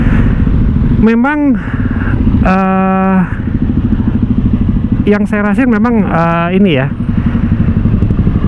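Honda motorcycle engine fitted with a custom clutch, a steady low idling rumble with a faint mechanical rattle running throughout, close and continuous beneath someone talking.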